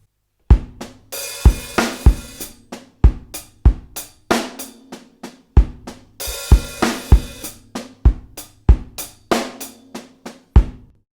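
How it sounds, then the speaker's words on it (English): A drum kit plays a linear groove in 4/4 with the hi-hat left open on some beats, sharp kick, snare and hat strokes in a steady repeating pattern, loud and close with no talk over it. "Now we're gonna do another groove in 4/4, opening the hi-hat, and this time we're gonna let the hi-hat open for some beats."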